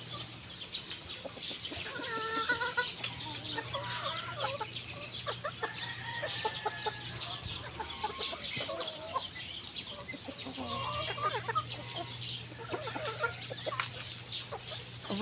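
Chickens cluck and chatter at an afternoon feeding, with repeated overlapping clucks from several birds nearby and a low steady hum running beneath them.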